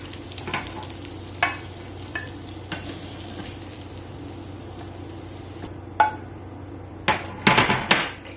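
Shrimp and enoki mushroom fritters fry in olive oil with a soft, steady sizzle under a low hum, punctuated by scattered utensil scrapes and a cluster of clinks near the end; nobody speaks.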